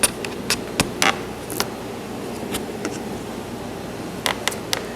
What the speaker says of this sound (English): This internal bracing will be glued and stapled.